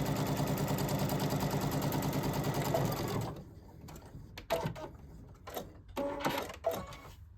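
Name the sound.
sewing machine stitching a jacket sleeve seam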